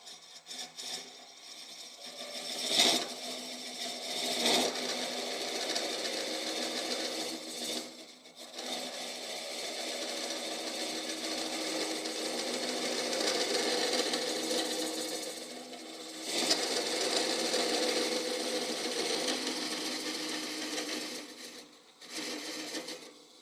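A woodturning lathe hollows out a mulberry hollowform, the tool scraping against the spinning wood in a continuous rough hiss with brief pauses and changes in pressure, close and moderately loud.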